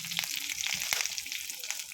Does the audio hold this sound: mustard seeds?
yes